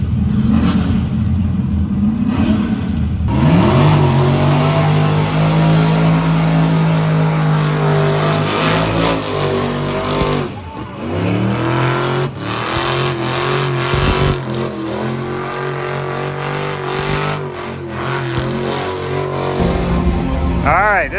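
Cars revving for a burnout contest in the open class, with a loud, sustained engine roar that rises and falls through repeated throttle blips and rumbling passes, some voices faintly mixed in.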